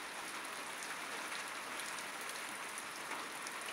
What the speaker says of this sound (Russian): У нас дождь зарядил.